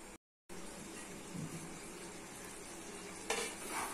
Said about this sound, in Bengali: হালকা আছে এইভাবে কষে দিতে হবে, তলাতে বসে যেতে পারে।